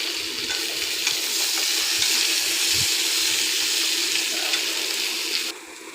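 Vegetables already fried are tipped into a hot pan for Bengali sukto with fenugreek, giving a steady, close hiss and sizzle with faint stirring, no talk over it.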